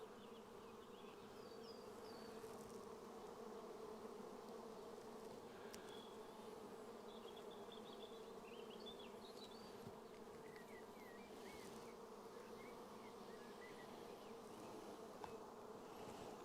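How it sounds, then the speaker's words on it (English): Honeybees swarm in dense numbers around an opened hive full of brood at an apiary during swarm season, producing a continuous low, even buzz. Faint chirping birds sit in the background. "Because there's so many bees in here"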